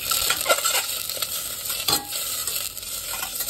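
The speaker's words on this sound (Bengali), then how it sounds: "তো আমি ডিমটাকে এবার ভেজে নেব একটু হালকা করে।" A peeled boiled egg lightly frying in hot oil in a non-stainless pan, a constant crackling sizzle with quick scraping stirs and faint utensil knocks, close and fairly quiet.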